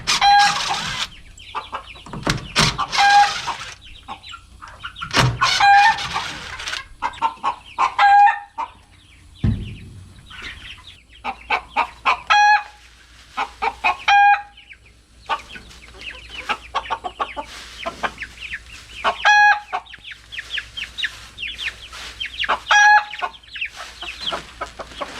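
Chickens in a coop cluck in short, repeated bursts while a rooster crows several times, all close by and loud, with quiet gaps between the calls.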